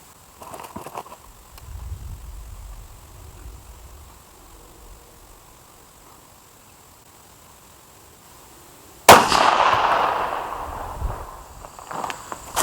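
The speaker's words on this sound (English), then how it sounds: "We're gonna go ahead and take one shot and see how I did on the correction." A single rifle shot fired to check a night-vision-compatible scope's correction cracks loudly once after a quiet stretch, followed by a short decaying echo.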